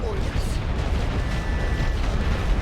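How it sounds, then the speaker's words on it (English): Artillery fire in The Great War: Western Front rolls as a continuous, dense low rumble of distant shelling, with no single blast standing out from the steady barrage. "keep our guys safe from the incoming artillery fire"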